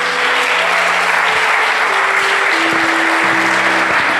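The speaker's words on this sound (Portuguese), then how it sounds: "Pode aplaudir Jesus." A church congregation breaks into sustained, loud applause for Jesus, dense clapping filling the room steadily from start to finish, with a faint tonal drone beneath.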